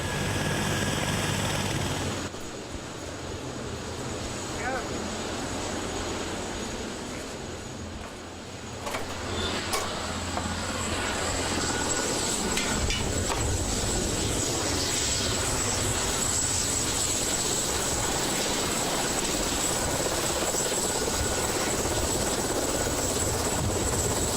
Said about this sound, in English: With the aircraft refuelled and the paras still aboard, we're off.